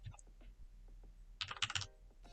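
Keystrokes on a computer keyboard while entering code, a short burst of several quick clicks near the end after a mostly quiet stretch with faint low background sounds.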